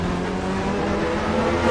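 McLaren GT3 race car in Assetto Corsa Competizione at Kyalami, a steady loud engine drone holding high revs throughout, close and continuous with no pause.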